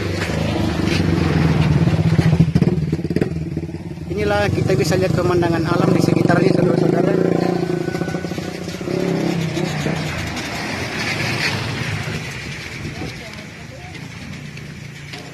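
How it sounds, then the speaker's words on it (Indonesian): Motorcycles and road traffic on the route from Toraja to Palopo near a suspension bridge, a continuous engine drone and revving under someone talking, fading somewhat toward the end. "motor dari sana itu dari Toraja menuju Palopo"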